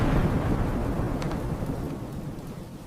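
Deep, continuous rolling thunder in a night storm at home, loud and close, with rain hiss filling the background throughout.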